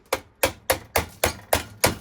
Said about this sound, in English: especially with a big hammer like this one